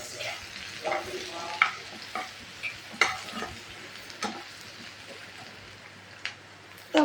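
Garlic and torn whole green chillies frying in oil in a pan, a close crackling sizzle punctuated by repeated spatula knocks and scrapes, ending on a louder clatter.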